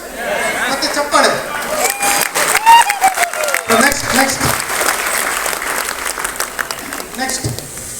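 A crowd applauds at the end of a presentation at a Networks Day gathering. Scattered clapping runs throughout, mixed with audible voices and chatter that rise and fall across the room.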